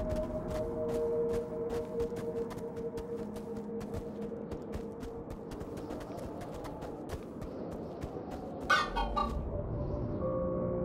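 Chickens clucking in the video game Minecraft: Story Mode, with soft, scattered clucks under a steady ambient game soundtrack and a brief louder flutter near the end.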